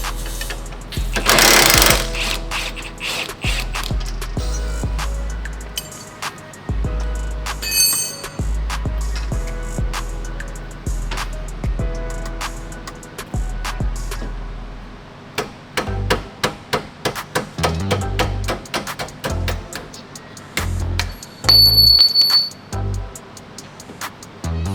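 An air power tool works off a lower bolt on a Camaro, firing loud, close bursts of rapid hammering separated by short pauses, with metallic clinks between bursts.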